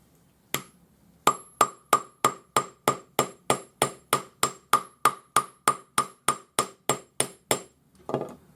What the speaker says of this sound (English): So if you're going to hammer this on your block with the hammer